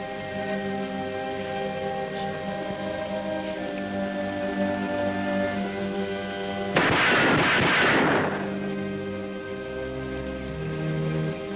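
A single gunshot from a western radio drama rings out loud as a broad burst that decays over about a second, set against a steady background of musical drone.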